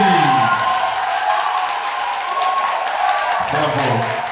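A studio audience applauds and cheers contestants at a quarter-final of a French-language singing competition. The steady wash of clapping and crowd noise runs throughout, mixed with a voice and some musical tones.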